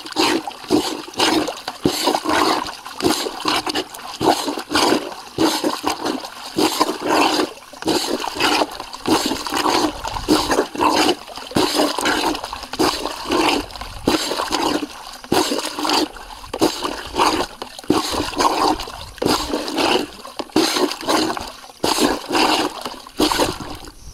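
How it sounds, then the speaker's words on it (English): Laundry being hand-washed and rinsed in rain water on an off-grid homestead, with rhythmic sloshing and splashing that repeats steadily at close range, plus gurgling and dripping. "here's my second rinse cycle"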